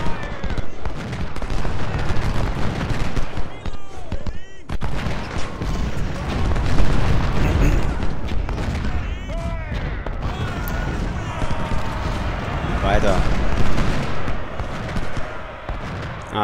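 Cannon and artillery fire in the Civil War strategy game Ultimate General: Civil War, Cold Harbor battle: a dense, continuous barrage of booms and crackling volleys, with someone talking over it.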